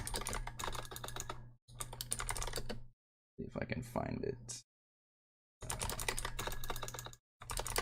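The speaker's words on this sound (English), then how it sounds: "So you hear me clicking along." Typing and clicking on a computer keyboard comes in steady close bursts with short pauses while a person talks over the keys.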